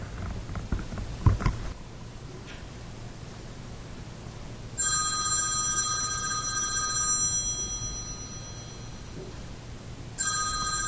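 A telephone rings at the other end of a call from a teacher to a parent: two electronic ring bursts, the first lasting about two seconds and the second starting near the end, over faint room noise.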